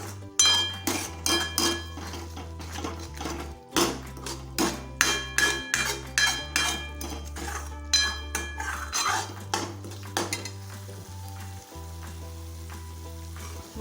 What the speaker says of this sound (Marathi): तेल सुटेपर्यंत आपल्याला हे परतवून घ्यायचं आहे